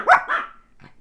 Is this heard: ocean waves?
no